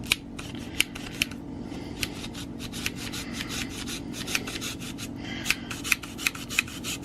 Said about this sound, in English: Now I'm gonna take 2 cloves of garlic and mince it in.